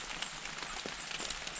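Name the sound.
rain falling outside a cabin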